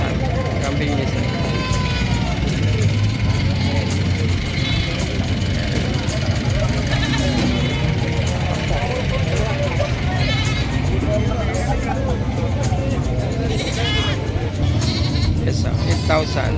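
Goats bleat repeatedly at the San Carlos livestock market amid a noisy crowd, with people talking constantly over the calls and an engine idling in the background.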